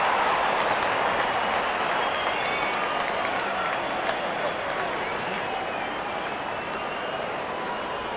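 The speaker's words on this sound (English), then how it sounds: "The crowd is enjoying every bit of this action." Cricket stadium crowd applauding during an SRH vs CSK match, a dense sustained roar of clapping and cheering from a big crowd that fills the whole stretch at even loudness.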